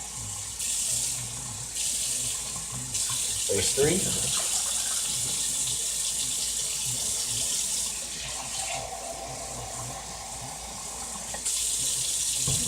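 Tap water running into a pot of rice, several cups measured in for cooking, a steady close hiss and splash that stops and restarts between pours while someone speaks briefly.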